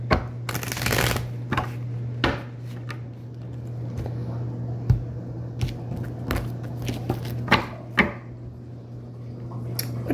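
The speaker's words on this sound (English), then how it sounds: "Let's do one more shuffle." Tarot cards being shuffled close up, with repeated riffling bursts and soft taps against a steady low hum, no talking.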